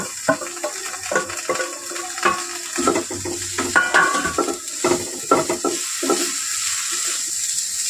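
Onion, green chilli and tomato frying in a pan for bread upma, a light sizzle under repeated scraping and clattering stirring strokes, close and without talk.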